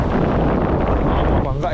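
Strong wind at sea roars steadily and loudly against the microphone during a salmon fishing trip on the Sea of Okhotsk off Hokkaido, with a buffeting rush that masks everything else.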